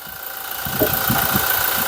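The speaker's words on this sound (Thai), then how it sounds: "เสียงเครื่องนิ่ม นักไปแหละเสียงเครื่องเรียกว่าเย้าเลยแหละ" A 2017 Toyota Hilux Revo Smart Cab with a 2.4-litre diesel engine idling nearby, a steady low rumble with a soft rhythmic knock that grows slightly louder midway.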